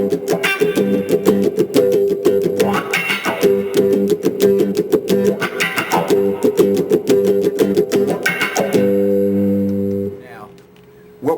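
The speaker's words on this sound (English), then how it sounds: "When we put the wah in, sounds like this." Funky electric guitar playing a song through a wah pedal, sweeping tone over repeated rhythmic phrases ending on a sustained ringing chord, played alone and close.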